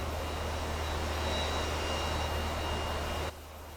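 A JAS 39C Gripen fighter jet's auxiliary power unit runs as a steady, loud mechanical whine and roar with no pauses, dropping noticeably in level just before the end.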